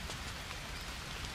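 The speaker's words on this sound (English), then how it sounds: "The rain's doing its job for us." Steady rain pours down in the jungle survival game Green Hell, a dense, even patter on surfaces that carries on without a break and with no talk.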